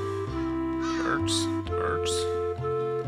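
Birds cawing in the platformer Santa Claus in Trouble, two harsh crow-like caws a moment apart over steady game music, with someone talking underneath.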